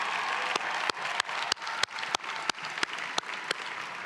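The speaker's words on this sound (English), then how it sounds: "please join me again in giving Wolfgang a cappella another round of applause." A commencement audience applauds an a cappella group in sustained, full clapping, with a few sharp, close hand claps standing out against the crowd.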